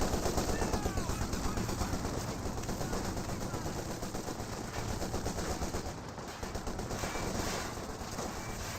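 Rapid, continuous automatic gunfire from infiltration commandos in the Company of Heroes 2 strategy game, a dense stream of machine-gun bursts with overlapping battle noise throughout.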